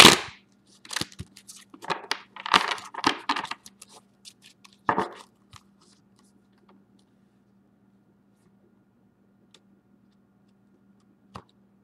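A deck of tarot cards is shuffled in several quick, crackling bursts of flicking card edges over the first five seconds, followed by near silence over a low hum with one or two faint ticks.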